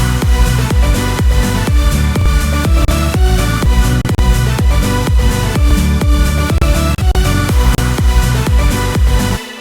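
A remake of a song built with the Serum synth plays loud and dense without pause, with steady pulsing beats and layered synth chords throughout and no voices.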